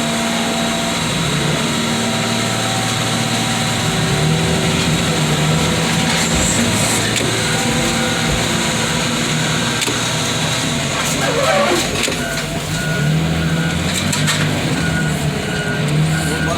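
Heavy machinery at a scrapyard works on hybrid cars in a car crusher: a loud, continuous engine drone and mechanical rumble with intermittent metallic clanks and crunches, plus a steady tonal beeping throughout.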